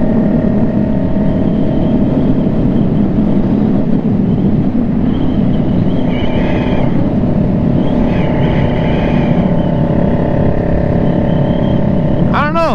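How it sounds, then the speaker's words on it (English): Motorcycle fitted with a new exhaust, riding with a steady, loud engine drone and wind rush under someone talking, the tone holding fairly even throughout. "the exhaust sounds way nicer now"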